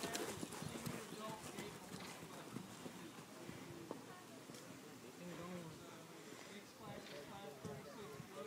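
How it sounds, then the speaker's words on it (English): Hooves clip-clop in a steady jogging rhythm during a horse show walk/trot class, with people talking and outdoor noise around them. "Jog your horse."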